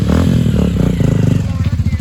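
A Bajaj Pulsar 220 motorcycle pulling a wheelie, its engine loud and close with a throbbing, pulsing exhaust note that rises then settles into a rapid chugging rhythm.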